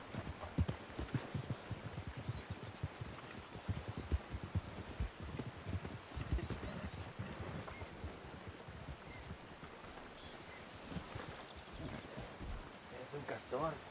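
Horse hooves clip-clop in an uneven rhythm through the Red Dead Redemption 2 roleplay world, close and steady throughout, with faint rustling in the background.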